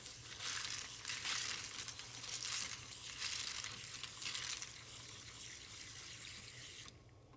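Mozambique agate stones from a rock tumbler rinsed under running tap water, a steady hiss of flowing water mixed with faint gritty rattling of stones, stopping abruptly near the end.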